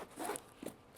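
A zipper on an Incase A.R.C. Travel Pack backpack is tugged in short, quiet scratchy bursts, close by and faint, with no talking.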